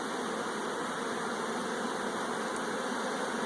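Bees swarm around a wooden swarm trap box in an apiary, giving a steady, dense buzzing hum that holds at an even level throughout, with no talk.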